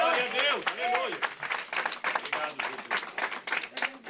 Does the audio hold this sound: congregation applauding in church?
yes